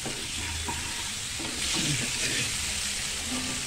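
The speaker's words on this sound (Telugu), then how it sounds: "ఇవి ఇందులో వేయించుకోవాలి" Boiled eggs fry in oil with salt and turmeric for a masala egg curry, a steady loud sizzle and hiss filling the pan with occasional stirring scrapes, no talking.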